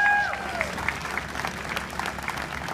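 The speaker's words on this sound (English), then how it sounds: "Give him another round of applause, please" Audience applause at a charity walk in Boston, steady clapping from a crowd after a faint whistle-like tone at the start, continuing evenly to the end.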